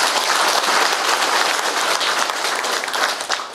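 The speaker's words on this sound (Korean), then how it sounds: "고맙다고 박수 한번 칩시다" A crowd applauds steadily and loudly at an anniversary ceremony, dense clapping sustained throughout without a break and no voices standing out.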